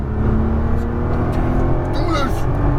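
A Nissan GT-R engine roars under steady acceleration, a loud continuous drone rising slightly in pitch with a shift near the end, close and sustained throughout.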